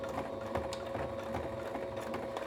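A sewing machine stitches fabric alongside a zipper, a quick, even mechanical whir and patter of the needle running continuously at close range with no talking.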